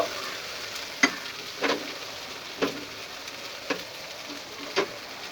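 Bay leaves fry in hot oil, giving a soft steady sizzle with five or six sharp ticks and stirring clinks spaced about a second apart, close by and unaccompanied by speech.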